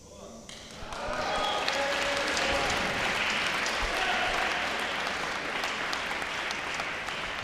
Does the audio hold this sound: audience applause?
yes